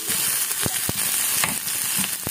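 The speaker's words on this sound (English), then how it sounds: "We'll fry the onion." Steady, close sizzling of onion frying in a pan, with a few soft clicks of stirring and no voices.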